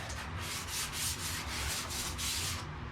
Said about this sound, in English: I sanded a little bit more.